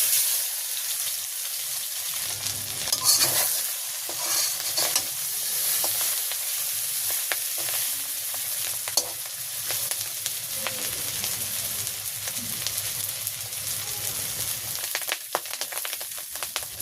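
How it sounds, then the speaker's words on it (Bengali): Fish roe frying in oil in a pan in a village kitchen, a long steady sizzle and hiss close by with scattered crackles and occasional utensil scrapes; no one speaks. "আমি এখন মাছের ডিমগুলো ভাজি করব"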